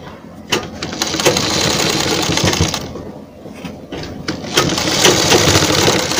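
Close and loud, a sewing machine runs in quick rattling bursts as it stitches samosa lace onto a pant hem, with brief pauses between runs.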